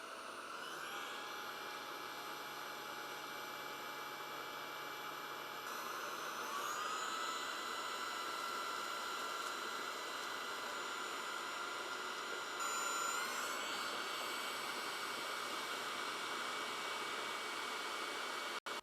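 A Levoit VortexIQ 40 cordless vacuum runs as a steady, close, high-pitched whine with a broad airy rush, shifting pitch slightly a couple of times as power levels change, with no talking.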